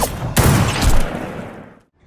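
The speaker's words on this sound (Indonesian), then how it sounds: "mereka berdua lalu beradu tembakan" A few sharp gunshots crack in quick succession, loud and close, then trail off into a fading echo and silence.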